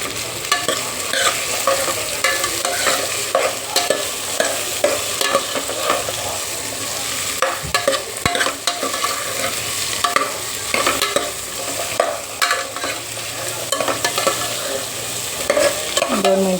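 Carrots, green beans and cauliflower sautéing in a pan for veg biryani give a dense, continuous sizzle with frequent stirring scrapes and occasional clinks, steady and close throughout.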